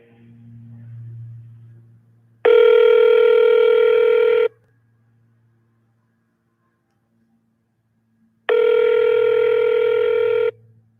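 Two long, loud electronic telephone ring tones separated by a pause, heard close over a low background hum.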